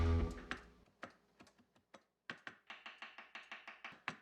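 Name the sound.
knife chopping fresh dill and tarragon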